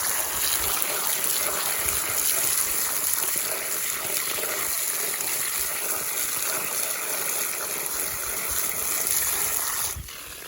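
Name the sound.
rinsing vegetables under running tap water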